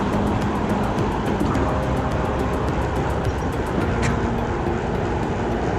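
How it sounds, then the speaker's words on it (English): A truck rushes past a cyclist on a commuter ride, its loud broadband roar and wind wash filling the scene steadily throughout, with no talking. "The wash from that truck was unpleasant."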